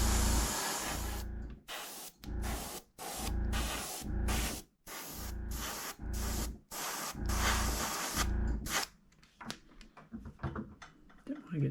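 Short bursts of aerosol spray paint put a light coat on the side of a craw-style fishing lure, hissing close by in a steady rhythm of about a dozen brief sprays with gaps between them.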